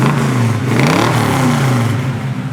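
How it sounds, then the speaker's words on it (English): A red 1973 Camaro Z28 with a 350 V8 and a four-speed gearbox revs loudly up close, its engine note rising and falling in a short burst over a rough, throaty rumble. "Four-speed car, great sound in 350 underneath the hood."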